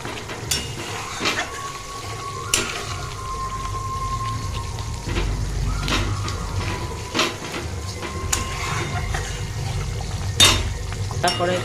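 Homemade butter simmering down into ghee in a wok, a steady bubbling hiss with scattered crackles and pops throughout, fairly loud and continuous with no talking.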